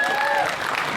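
A convention crowd at Dallas Comic Con 2012 gives a short, loud burst of applause, with a high whistle cutting through at the start before the clapping thins.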